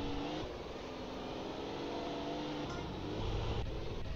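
A car engine races in Grand Theft Auto San Andreas, a steady loud droning hum with rising revs that runs unbroken throughout, mixed with faint game sounds.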